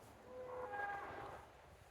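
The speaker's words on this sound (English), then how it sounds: "Pardon that noise. That's the cows over there." Cattle lowing nearby on a farm, a couple of drawn-out tonal moos overlapping across the middle of the clip, moderately loud over a steady outdoor background.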